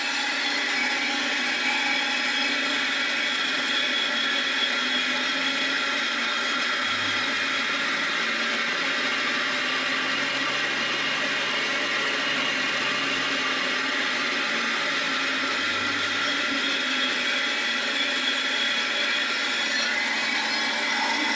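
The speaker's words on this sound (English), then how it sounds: "Now I have connected the feed motor." A feed motor hums steadily and loudly from start to finish, its continuous mechanical drone holding an even level without pauses.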